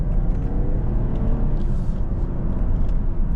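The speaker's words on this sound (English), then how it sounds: "I'm gonna take this thing on a drive." BMW 540i xDrive sedan on lowered springs cruising along a road, a steady low engine and tire rumble with broadband road noise held close and constant throughout, no talking.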